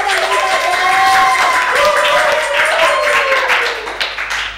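A church congregation claps for children at a Sunday service, a mixed burst of clapping running through the stretch while a voice carries on over it before the applause thins out near the end.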